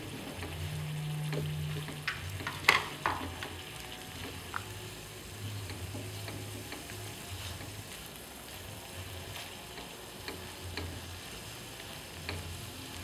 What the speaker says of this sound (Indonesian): Kemudian aduk kembali sampai rata.